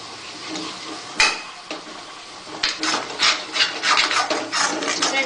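Potato halwa is stirred and roasted in a non-stick pan, with a spatula scraping in close, rough, rhythmic strokes that grow busier and louder toward the end, and no voices.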